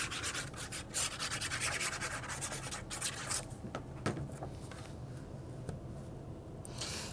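Paper back page of a Christmas mini album rubbed down by hand to set the glue, a continuous close, soft scratchy rubbing that eases off toward the end.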